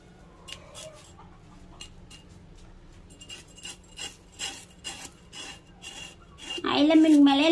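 Small Indian mackerel (ayila fish) held in the hand while a blade scrapes off its fine scales, giving a run of close, faint rasping strokes that grow louder and busier toward the end.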